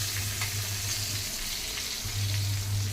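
Whole green chillies crackle and sizzle in hot oil in a home kitchen, a continuous near frying hiss with small pops throughout and a low hum at start and end.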